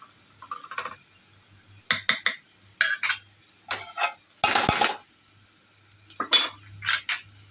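A spoon stirs kadhi batter of yogurt and chickpea flour in a metal pot, making repeated scraping and clinking strokes in irregular bursts, close and moderately loud, with no talking.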